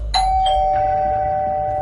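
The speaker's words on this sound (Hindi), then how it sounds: "दरवाजे की घंटी बजी।" A doorbell sounds one clear electronic ding-dong, its tone ringing on and slowly fading, with low rumbling background noise underneath.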